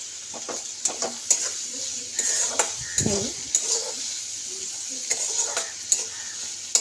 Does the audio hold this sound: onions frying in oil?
yes